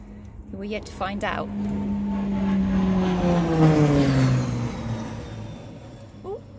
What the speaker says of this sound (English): That was the plane that went past.